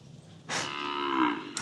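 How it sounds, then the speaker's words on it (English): A cow lets out a single loud, close moo, rising and sustained for about a second, against a quiet outdoor background. "That cow was like, what you doing back here, Whitey?"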